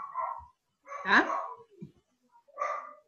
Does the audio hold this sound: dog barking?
yes